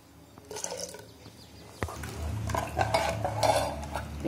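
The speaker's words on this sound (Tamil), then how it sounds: "அரைச்சதை ஊற்றி எந்த அளவுக்கு தண்ணி வேணுமோ அந்த அளவுக்கு சேர்த்து சட்டியில் போட்டு" Water splashes and trickles into a metal cooking pot of murungai keerai kuzhambu with ground coconut paste, with a clink of a utensil first and stirring and dripping sounds as the pouring continues.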